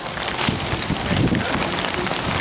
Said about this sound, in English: This is what we're up against. Lovely rain.